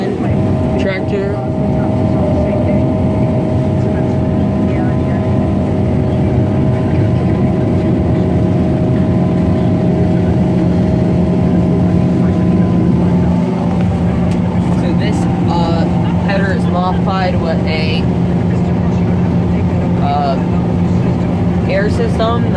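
A combine harvesting soybeans unloads grain into a new hauling tractor, giving a steady, loud low engine drone with mechanical whine throughout, and voices speak over it.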